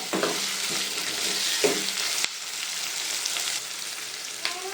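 Tomatoes sizzle and fry steadily in a pan for a chicken sambar, with faint stirring scrapes and no talk.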